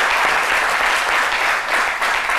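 Studio audience on a French midday talk show applauds in a loud, continuous wash of clapping, steady and full with no speech over it.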